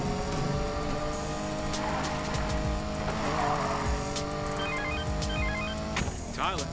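Car driving home in Need for Speed Payback, a steady engine drone with rising and falling tones and a few brief game beeps near the end, no voices.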